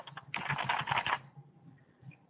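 Quick bursts of typing on a computer keyboard, a few separate taps and then a dense run of clicking keystrokes that stops, leaving a quiet room.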